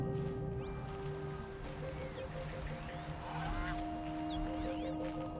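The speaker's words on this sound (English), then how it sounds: "Oh, that was a goose. I thought it was a turkey." A goose honks in the video game Horizon Zero Dawn, with a few nasal calls over a steady game ambience of hum and distant environmental noise, fairly faint in the mix.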